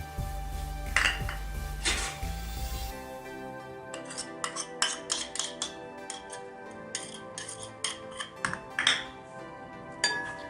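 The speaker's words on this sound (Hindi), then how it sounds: "तो सबसे पहले मैं मिक्स कर लेती हूँ इसमें तमाम चीज़ें। इसमें मैं डालूँगी ये हरी चटनी है, इसको डाल के हम मिक्स कर लेंगे।" Green chutney being mixed into dahi phulki in a bowl, a run of light clinks and scrapes of a spoon against the bowl over a faint hum, close and quiet.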